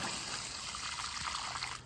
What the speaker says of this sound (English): I'll grab my hose and give it a quick water in.